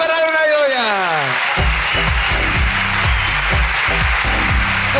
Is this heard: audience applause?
yes